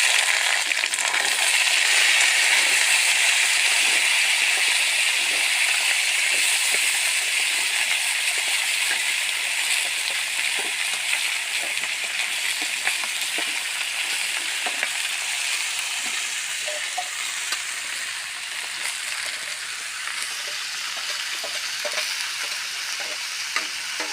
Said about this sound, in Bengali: তেল গরম হয়ে গেছে, এই যে ধুয়ে রাখা আলুগুলো দিয়ে দিচ্ছি।